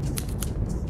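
Scissors give two quick, crisp snips in under a second, close and clear over a low, steady background.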